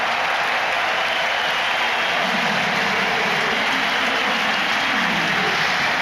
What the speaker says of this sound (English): His fiancée applauding from the stands